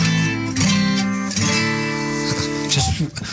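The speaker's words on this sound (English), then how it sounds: "Well, Uncle Jellybean, here's my guitar, just so these people out there in the radio land know my guitar will sound like this." A short run of sustained electric guitar notes rings out, shifting pitch over a few seconds, close and fairly loud.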